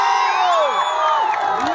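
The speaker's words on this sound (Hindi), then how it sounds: "इस इंसान के लिए जोरदार हल्ला करके ताली बजाओ" A large crowd at a Bhojpuri stage show cheers and whoops loudly, with rising and falling shouted voices layered over continuous, dense noise.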